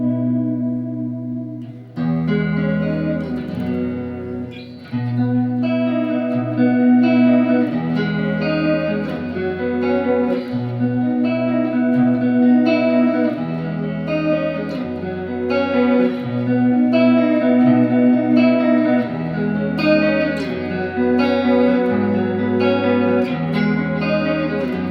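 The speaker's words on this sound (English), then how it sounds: "I'll show you the sound with the chorus on." Electric guitar with chorus effect engaged, playing a sustained rock phrase of shimmering, slightly doubled notes over a low repeating bass line, steady and fairly loud for the whole stretch.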